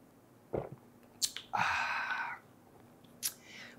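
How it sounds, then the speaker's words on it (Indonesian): Coffee is sipped from a cup: a short slurp, small clicks and mouth sounds, then a longer airy sip, close and quiet with no talking. "Seruput dulu kopinya."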